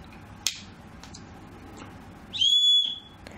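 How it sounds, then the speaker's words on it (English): A small whistle built into a survival first aid kit's knife gives one short, shrill, fairly loud blast after a couple of faint clicks, standing alone against quiet background. "and it also has a whistle."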